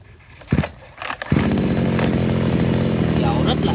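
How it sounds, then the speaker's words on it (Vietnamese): An Echo chainsaw sputters through a couple of brief revs, then settles into a loud, steady buzzing run close to the listener, with a voice talking over it early on. "Tiếng máy của nó thì giật là cực kỳ êm luôn"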